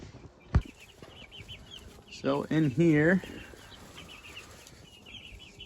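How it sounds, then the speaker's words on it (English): Cornish cross meat chickens in a brooder, a flock of 42 young birds, give a short burst of cheeping and clucking after a brief thump, with someone speaking briefly over the quiet background. "These are Cornish cross meat birds"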